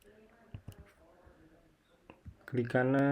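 A computer mouse clicks a few times, sharp and close, while a person talks at a computer running database software.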